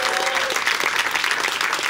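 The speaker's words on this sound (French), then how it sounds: "Vous pouvez applaudir." A theatre audience bursts into dense, steady applause during a comedy stand-up show, loud and continuous across the moment without any voice on top.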